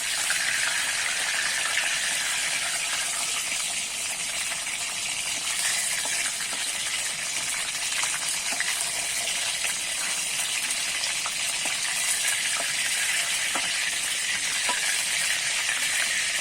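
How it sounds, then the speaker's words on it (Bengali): Pointed gourd (potol) fries in hot oil in a pan with a steady, bright sizzle that holds throughout, broken by occasional small pops and clinks. "পটলগুলো কিন্তু আমি ভালো করে ভেজে নিয়েছি দেখো"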